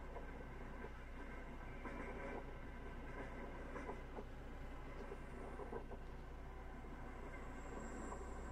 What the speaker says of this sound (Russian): Тем не менее, мы едем на этой электричке